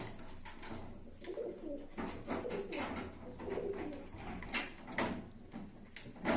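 Pigeons coo in a loft, a few soft, low murmuring calls fairly close by, mixed with light rustling and a sharp knock partway through.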